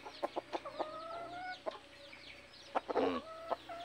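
A labuyo, a red junglefowl, gives a series of short clucks and chirpy calls, close and fairly clear over a low background hum.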